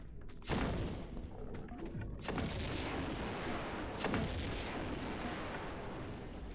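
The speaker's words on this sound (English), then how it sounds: "I think I'm gonna use grenade launcher" Grenade launcher shots in Tomb Raider II, heavy booming thumps at intervals, each followed by rumbling blasts, loud and close with no talk over them.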